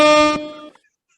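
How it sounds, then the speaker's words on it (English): A short, loud air horn sound effect blares for under half a second, then decays quickly into silence. "Let's DJ or air horn."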